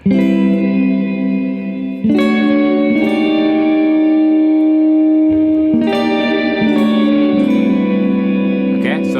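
Sustained guitar chords through a Sonicake Levitate reverb pedal turned to maximum ring out drenched in heavy reverb, each strum blooming into a long, washy tail that fills the space.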